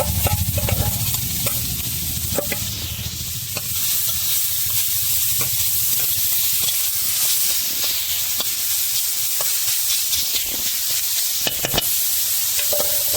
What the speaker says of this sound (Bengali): কুচি কুচি করে কেটে নেওয়া হয়েছে বিট গাজর এখন সেটাকে হালকা করে ভেজে নিতে হবে